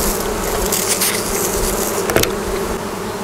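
Dense, steady buzzing of many honey bees at a hive while two late wild swarms are combined into one hive, close and continuous throughout with no talk.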